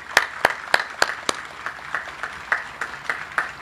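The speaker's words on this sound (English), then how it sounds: "Let's give her a big round of applause." Sparse, distinct hand claps ring out at a slow, uneven rhythm at an Army ceremony, each one sharp and separate, fairly quiet and with no one talking.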